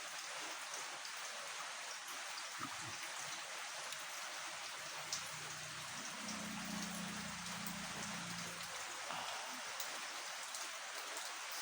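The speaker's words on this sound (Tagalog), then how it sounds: "So grabing ulan." Steady heavy rain pours down throughout, a dense continuous hiss of drops drumming on surfaces, with a low hum rising briefly in the middle and no talk.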